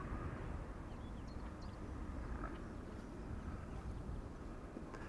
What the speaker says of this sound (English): BizJet also having taken off from runway 22 just now.